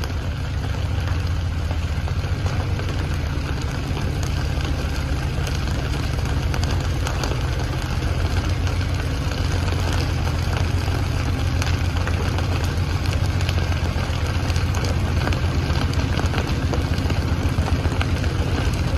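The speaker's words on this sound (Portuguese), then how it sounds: "trem tá passando em velocidade de precaução porque tá pegando fogo" A Vale passenger train rolls slowly through Belo Horizonte at caution speed because of a fire, heard as a steady low engine drone with rumble that stays constant and fairly loud throughout.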